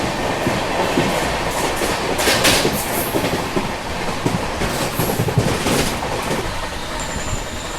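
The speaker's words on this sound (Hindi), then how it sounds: "ट्रेन रीज़न भी कुछ नहीं है पता नहीं क्या ही हो रहा है बहुत स्लो चले जा रही है" The Brahmaputra Mail passenger train rolls slowly on its Patna to Delhi journey, with a continuous rumble and rhythmic wheel clatter heard from inside the coach and no talking.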